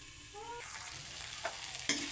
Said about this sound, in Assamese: এয়া ঢাকনখন খুলি মই আৰু এবাৰ লৰাই দিওঁ ভালকৈ সিজিবৰ কাৰণে